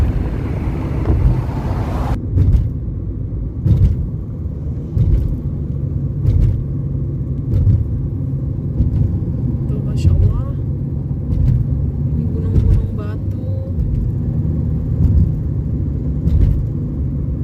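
Traffic noise from cars queued in a jam on the road near the Al-Hada summit in Taif: a steady low engine rumble with wind buffeting, heard from inside a vehicle, with a short burst of louder noise at the start and faint speech.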